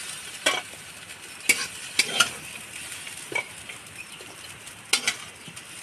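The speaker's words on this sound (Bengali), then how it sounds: "লাল শাক ভাজাটা হয়ে গেছে" Red amaranth greens with green chili stir-frying in a pan, a steady soft sizzle broken by sharp scraping clinks of a spatula at irregular intervals, close and without speech.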